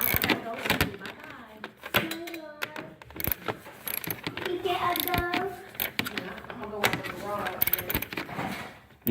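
Screws being taken out on a 1997 Ford Taurus, heard as scattered clicks and ratcheting mechanical clatter close by, mixed with voices talking in the background.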